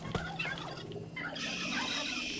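A wild turkey gobbles in Far Cry 5, a close rapid warbling call over busy game background noise, with no talking.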